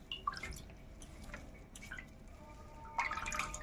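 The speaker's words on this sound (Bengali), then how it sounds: "আমি রগড়ে রগড়ে পুরো জলটাকে আমি বের করে নিলাম" Water drips and trickles in scattered faint bursts as raw vegetables for a momo filling are squeezed and wrung out by hand.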